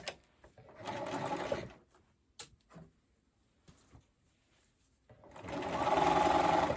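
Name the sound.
sewing machine stitching binding onto a romper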